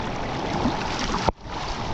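Surf washes and churns steadily around a board being paddled through the waves, with an abrupt splash and brief dip in the noise partway through.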